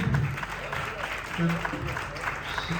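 An audience at a kavi sammelan poetry recital claps for a poet's fiery lines, a steady, moderately distant patter of applause mixed with voices and murmured talk.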